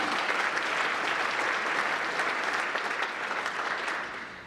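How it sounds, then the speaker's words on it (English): Steady applause from the audience at the 2019 Kentucky Entrepreneur Hall of Fame ceremony, a dense even patter of many hands that holds strong before tapering off at the end. "One more round of applause, please, for Chase"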